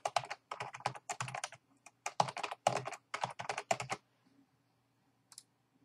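Rapid keystrokes on a computer keyboard while a root password is entered during a Solaris 10 install, coming in close, steady bursts of clicks for about four seconds before a short pause and a single final tap.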